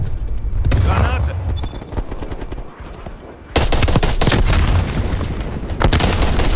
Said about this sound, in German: Granate!